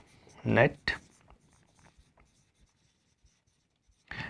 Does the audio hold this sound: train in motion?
no